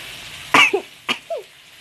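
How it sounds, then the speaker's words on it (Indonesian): Someone sneezes from the sharp aroma of lemongrass, turmeric and spices frying for Indonesian mangut, two close, loud bursts each followed by a short breathy tail, over a quiet kitchen background. "kalau sudah mulai bersin-bersin, berarti sudah harum"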